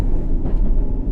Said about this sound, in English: This is a circle line train